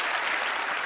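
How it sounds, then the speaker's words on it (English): A studio audience at a magic show taping applauds steadily as a volunteer heads for the stage, a dense, even wash of clapping held at one level throughout, with no voices over it. "let's have a round of applause for him as he makes his way"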